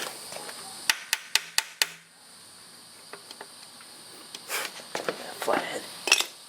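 Hammer taps on a stuck part of a Toyota 4Runner 3VZE engine: a quick run of five sharp metallic strikes in a steady rhythm, then a few lighter scattered knocks and clanks, close by in a quiet shop.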